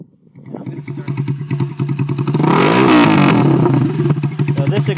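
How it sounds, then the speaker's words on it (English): A custom chopper motorcycle engine fires up close by, settling into a choppy, pulsing idle before a loud rev through its throaty exhaust, then easing back to a rumbling idle. "So this exhaust is quite loud, but that's the way I like it."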